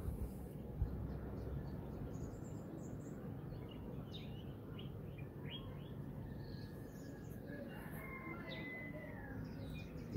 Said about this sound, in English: birds flying around the sky